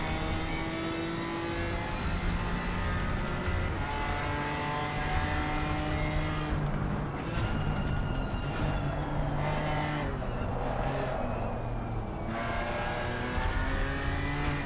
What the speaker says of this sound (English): We are on board with the BMW.